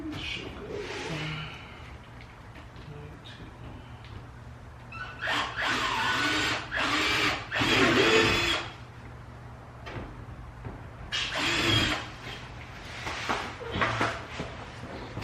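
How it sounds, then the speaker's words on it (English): A power drill bores holes to mount a rear diffuser on a Dodge Charger, with several loud whirring bursts of a few seconds each, separated by quieter handling noise and brief pauses. "Alright, got those holes drilled"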